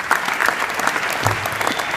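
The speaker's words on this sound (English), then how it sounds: "let's give a big round of applause." An audience applauds at an evening awards event, steady dense clapping filling the room continuously, fairly loud with no break.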